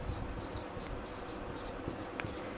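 Pen or marker strokes rasp and tap steadily across a board or paper while a maths solution on mathematical induction is written out, close and continuous with no talk.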